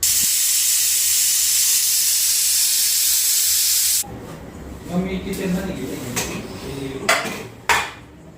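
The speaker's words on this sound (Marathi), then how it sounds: "आता कुकरला झाकण लावून दोन किंवा तीन शिट्टी करून घेणार आहे" A loud, continuous hiss of steam jets from a pressure cooker cooking rice for several seconds, then cuts off, followed by scattered metallic clinks and clatter.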